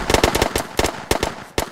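Rapid gunfire in the survival game Hurtworld, a burst of sharp close shots in an irregular rhythm with short gaps, loud and without talk.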